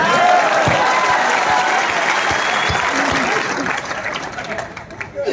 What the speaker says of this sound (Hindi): और 400 पे तालियां बजा रहे हो